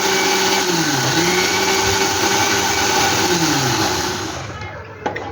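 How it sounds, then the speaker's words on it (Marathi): A kitchen mixer grinder whirs loudly as it blends spinach with water, its pitch dipping and rising as the speed is eased up and down before it winds down and stops. "मिक्सर कमी जास्त कमी जास्त करत बघा"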